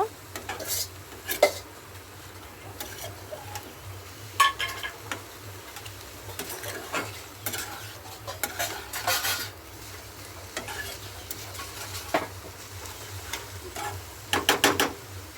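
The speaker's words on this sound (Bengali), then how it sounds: "আবারও আমি মিট মশলার সঙ্গে হালকা নেড়ে চেড়ে নেব" A spoon scrapes and clinks steadily against a pan as banana flower is stirred with meat masala, with faint sizzling underneath and intermittent metallic taps; no voices.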